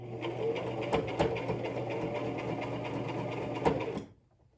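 A sewing machine runs a narrow stitch across a fabric face mask, a steady rapid mechanical whir with faint rhythmic ticking, close by, stopping abruptly near the end.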